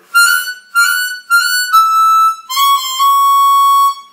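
Chromatic harmonica playing several short drawn notes, then longer held ones, with the pitch dipping as the slide is pushed in during the draws; clear and close, no talking.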